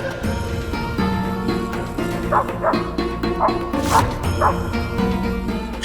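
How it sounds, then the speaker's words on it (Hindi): A dog barks and yips repeatedly in short bursts, close by, with whimpering notes in between over a steady musical background. "श्वान का इस तरह भौंकना"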